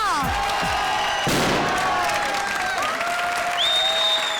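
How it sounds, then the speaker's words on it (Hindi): Loud applause from an audience fills the clip, with musical tones and effects sweeping over it throughout. "चारों टीम्स के लिए जोरदार तालियां।"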